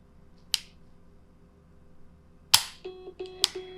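Sharp, close gunshots crack out at a shooting range during card shooting: one isolated report, then two more about a second apart, each followed by short electronic beeps.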